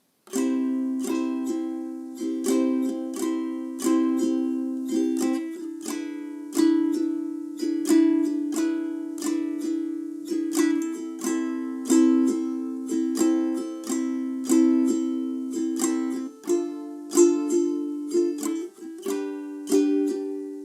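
Ukulele strummed steadily through a chord progression, a repeating down-down-up rhythm of bright chords, close and clear with no singing.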